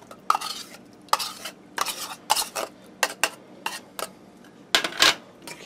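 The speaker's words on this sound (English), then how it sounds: "I'm going to give this a quick stir." Crushed pineapple with its juice and pepper gets a quick stir in a bowl: a run of short, separate scraping strokes, close and fairly loud, about a dozen in all.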